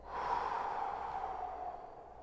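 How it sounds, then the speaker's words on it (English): A long, audible exhale during a home workout session, a steady breathy rush of air lasting about two seconds that fades gently at the end, close and alone without talk. "Exhale."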